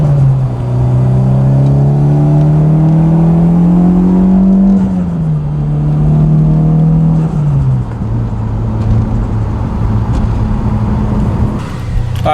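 A turbocharged Mitsubishi Evo X with a Tial Q blow-off valve on a test drive, its engine droning loud and close, rising steadily through a gear and then dropping at a shift before pulling on again.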